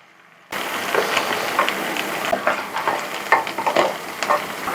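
A fish head sizzles loudly in hot oil with spices in a pan, starting abruptly after a short quiet moment, then a steady crackling fry broken by stirring scrapes, close and with no talking.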